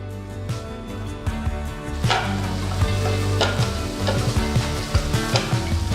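Halved green chillies go into onions already frying in a pan, with a steady loud sizzle and scattered stirring scrapes throughout; no one speaks.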